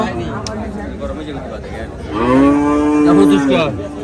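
A Holstein Friesian cow lets out a long, loud moo with rich harmonics, rising out of a busy background of crowd chatter and voices at a cattle market in Comilla, Bangladesh.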